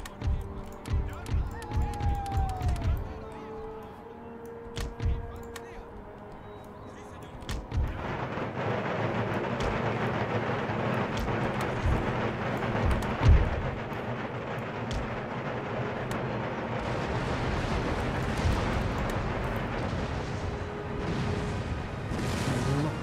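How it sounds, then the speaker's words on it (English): Artillery fire in the game Empire Total War, a series of deep booming cannon shots at the start, then a dense continuous roar of battle with scattered blasts, under occasional talk. "Lots of artillery fire against the battery"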